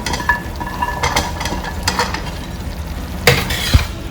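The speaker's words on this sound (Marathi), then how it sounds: "भाज्या सगळ्या मसाल्यामध्ये एकजीव करून घेऊया" Vegetables stirred into biryani masala in a pan, with repeated scraping and clinking of a spoon against the pan over a continuous sizzle, close and clear with no talk.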